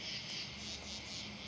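Crickets chirp on a humid summer day in a continuous high, even trill that holds steady and soft from start to finish, with no voices.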